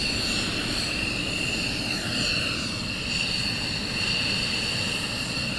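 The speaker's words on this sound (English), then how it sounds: "we have another one taxiing down towards us" Military jet aircraft taxiing at RAF Lakenheath, a steady, loud engine roar with a high whine held throughout, no break or voices.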